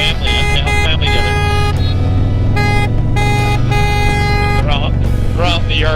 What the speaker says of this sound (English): those two crazy people honking at you